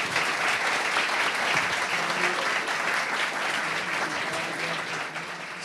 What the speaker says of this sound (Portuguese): Peço uma salva de palmas para o nosso convidado.